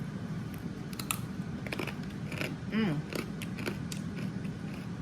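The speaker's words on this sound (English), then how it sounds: "Y'all hear that crunch?" Fried pork belly chicharrones crunch as they are bitten: a series of crisp, close crackles and snaps, fairly quiet, over a soft background hum.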